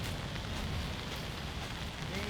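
Rain falls steadily on a golf course in Jatinangor as a constant, even hiss with no breaks.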